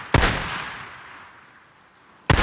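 Gunfire in Days Gone: two loud, separate gunshots with a long booming tail between them, and no talking.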